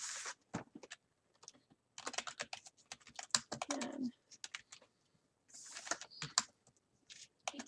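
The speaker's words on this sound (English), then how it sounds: "I'm typing my answer" Someone types on a computer keyboard in irregular bursts of quick, crisp clicks separated by short pauses, close and fairly quiet, with no talking.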